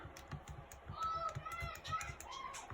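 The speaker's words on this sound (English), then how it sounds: "I'm really fast at typing these in because I've practiced this a lot" Graphing calculator keys pressed rapidly while entering statistics list data: quick, light clicking taps in a fast, uneven rhythm, close up, with a faint voice underneath.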